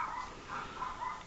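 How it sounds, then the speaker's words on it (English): Dog barking, faint and distant, with a few soft muffled yips or barks spaced roughly evenly over a second, heard alone with no talk. "There's that dog again."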